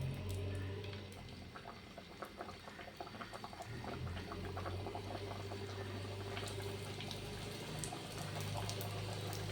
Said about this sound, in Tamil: கடாயில் எண்ணெய் காய்ஞ்சிருது, நம்ம ஒன்று ஒன்றா போட்டுக்கலாம்